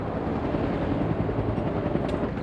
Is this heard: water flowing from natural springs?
no